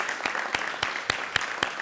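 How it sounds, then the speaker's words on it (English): Applause from an audience at a San Diego city Pride Month kickoff event, honoring two Pledge of Allegiance leaders: a steady patter of clapping with sharper, evenly spaced loud claps standing out about four times a second. "Can we get another round of applause for our two Pledge of Allegiance leaders?"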